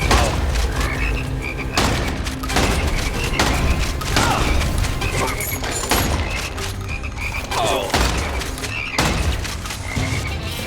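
Giant toads in the first-person shooter Immortal Redneck croak loudly and repeatedly over heavy thumps and impacts, a dense, chaotic barrage filling the scene.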